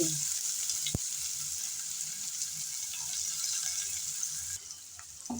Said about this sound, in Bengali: তেল গরম হয়ে গেল গরম তেলে দিয়ে দিচ্ছি পেঁয়াজ কুচি